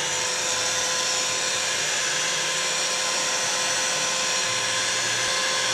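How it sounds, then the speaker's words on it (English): Steady, loud whooshing blower hiss of a heat gun warming a Kydex sheath, continuous and unchanging throughout with no speech over it. "Keep moving the heat gun so you don't melt it."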